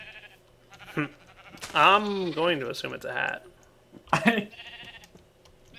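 Blocky Minecraft sheep from a modded survival game bleats with a wavering, harmonic cry in the middle, while someone talks casually before and after it.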